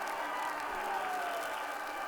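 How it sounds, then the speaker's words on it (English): Ice hockey arena crowd roars and applauds after an Oklahoma City Blazers goal, a dense, sustained wash of cheering from a large audience at steady volume. "you can tell by the crowd that there's a goodly number of Blazer fans over here tonight"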